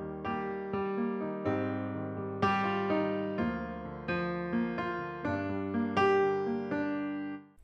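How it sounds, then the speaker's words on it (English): Piano played in halftime style, a full sustained chord struck roughly every 0.8 seconds with a rich bass, ringing steadily and close with no voices. "The first style we're going to look at is his main signature style, and it's called the halftime style."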